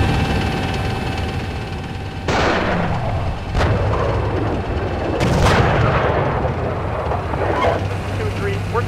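Incoming gunfire and shelling in the Steel Beasts Pro tank simulator, several sharp blasts over a steady low tank engine rumble, with radio voices talking throughout.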